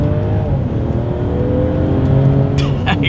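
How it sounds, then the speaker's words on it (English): A 2023 Mercedes-Benz E450 Coupe accelerates hard, its engine note rising steadily through the gear, loud and close from inside the cabin, with a brief high squeal near the end. "let's see how quickly we can get our new 2023 E450 Coupe here up to speed"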